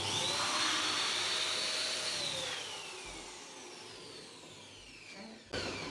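A balloon inflator fills an 11-inch balloon that has a raisin inside, with a loud steady hiss and whine that slowly drops in pitch and fades before cutting off with a brief thump.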